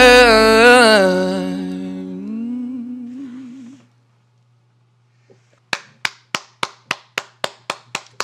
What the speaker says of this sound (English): Royal clap.